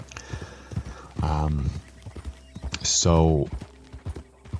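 Horse hooves clip-clop at a steady pace while riding in Red Dead Redemption 2, near and fairly loud, with a horse's whinny breaking in twice and someone talking over it.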